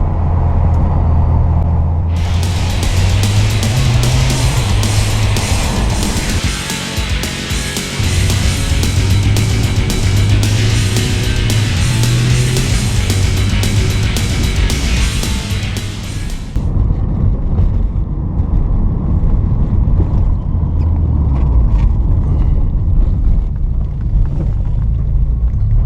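Interior drive in a 1986 Porsche 944 non-turbo on a cruise, a steady loud engine drone and road rumble with shifting revs, a bright hissing stretch in the middle, no talk.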